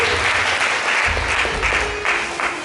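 A church congregation at a French-language worship service claps together in steady, dense applause that fills the room, with no voices rising above it.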